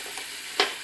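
Ginger and garlic paste fries in a pan with a soft continuous hiss, then one sharp scrape of a spoon stirring it near the end.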